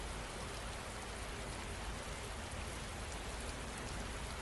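Steady rain falls continuously, a dense even hiss of drops on surfaces, close and full, with no voices or other sounds.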